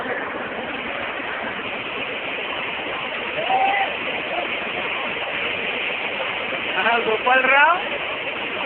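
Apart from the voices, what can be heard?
water rushing from opened Erai dam gate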